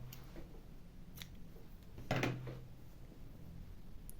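Scissors snip crochet yarn close by, with a few faint, quiet clicks and one clearer cut partway through, set against soft room noise.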